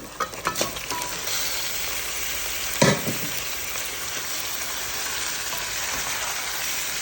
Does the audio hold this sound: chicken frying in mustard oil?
yes